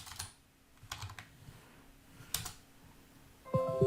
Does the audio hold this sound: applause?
no